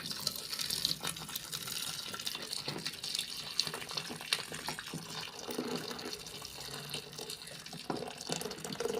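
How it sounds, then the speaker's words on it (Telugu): Hot water poured into the drum of a top-load washing machine during a home repair, a soft steady splashing fill under faint background clatter, without speech. "వేడి నీళ్ళు పోయాలి ఇందులో"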